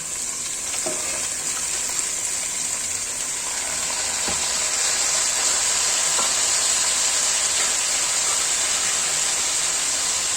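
Potatoes and pointed gourd frying in a pan, a steady, loud sizzle with a bright hiss throughout and a few faint clicks of a utensil.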